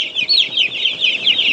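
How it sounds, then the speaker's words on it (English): About two hundred week-old chicks in a coop cheep and peep together, a loud, dense, continuous chorus of high chirps close by. "there's about 200 chickens in there, give or take one or two"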